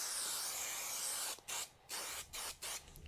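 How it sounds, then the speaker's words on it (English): Spray adhesive glue hisses from an aerosol can, first in one long steady burst and then in several short broken sprays, loud and close. "And we'll spray it with glue."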